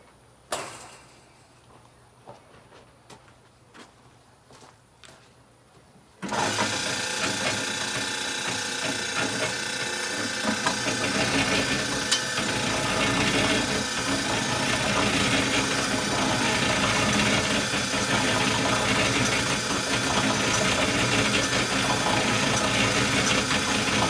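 Mixer mixing peat moss, compost and soil amendments: after about six seconds of quiet clicks and handling, the machine starts abruptly and runs as a loud, steady mechanical drone with faint rattling until the end.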